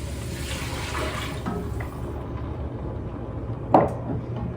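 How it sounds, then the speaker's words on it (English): Stock poured into a pot of squash soup for Three Sisters Soup, a steady liquid rush filling the pot for about two seconds, then a quieter watery wash with a brief sharp clunk near the end. "I'm going to add in our stock."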